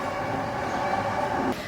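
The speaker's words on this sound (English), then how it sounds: "And now there's a train." A train passes in Japan, its broad steady rumble holding loud and even throughout, with a slight shift near the end.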